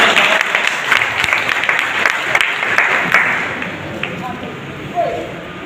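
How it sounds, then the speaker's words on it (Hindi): Clapping from an audience at a mandal party meeting in Lohani near Tosham rolls on steadily, mixed with crowd chatter and people speaking, then thins toward the end. "एक बार तालियां बजाकर"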